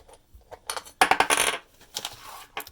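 An aluminum outer lid is unscrewed from a rock tumbler barrel, giving a close run of sharp metallic clicks, scrapes and clinks, loudest in the middle, with no talking.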